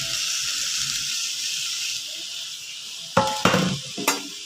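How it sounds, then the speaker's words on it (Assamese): Chopped bottle gourd tossed into a hot frying pan with fish and tomato, bringing a steady oily sizzle and then several sharp scraping stirs and clatters of a spatula against the pan near the end. "ইয়াতে এতিয়া কুটি থোৱা লাওখিনি দি দিম"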